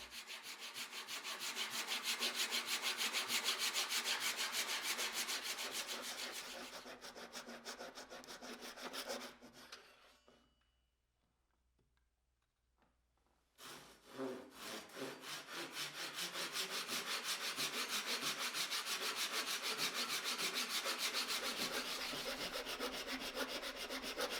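Wood pieces for a cutting board are cut to length with a hand saw, producing rapid, rhythmic rasping strokes in two long bursts separated by a few seconds of quiet.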